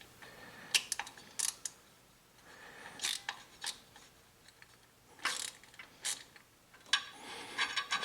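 Ratchet working a bolt loose on a 2018-22 tenth-generation Honda Accord during water pump and thermostat work: scattered bursts of metallic clicking and ratcheting, close and fairly quiet, with pauses between the strokes.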